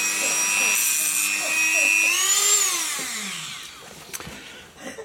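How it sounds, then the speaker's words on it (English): A power grinder grinds off parts of a DR650 motorcycle kickstand, a loud, steady, high-pitched whine that bends in pitch as the load shifts, then winds down with faint clatter at the end. "we're just going to grind these off"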